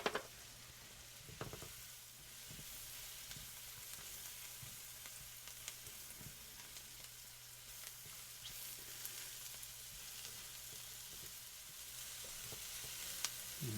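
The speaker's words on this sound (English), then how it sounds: "And then we'll just let these saute here nicely." Sawgill mushrooms sautéing in a pan with salt and pepper, giving a steady, soft, even sizzle with occasional faint stirring ticks and no voices.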